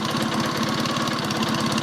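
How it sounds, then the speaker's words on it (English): A Matchless G11 motorcycle engine with gear-driven internals runs steadily close up, giving a dense, even mechanical clatter with a fast regular pulse and whirring gear noise, with no talk. "You can hear a bit of gear noise on this because it's all gear driven."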